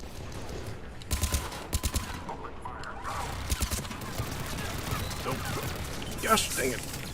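Gunshots in Mass Effect 3, several sharp bursts of automatic fire early on, then scattered shots and impacts under ongoing voices and combat noise.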